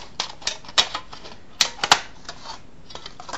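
An aluminum drink can is cut through near the nutrition label, producing a close series of crisp, irregular metallic clicks and snips with short gaps between them and no speech.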